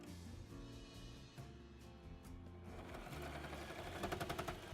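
Sewing machine stitching ribbon into ruffles along the top and bottom of a dress, a steady rapid needle clatter that runs continuously, growing louder and busier toward the end.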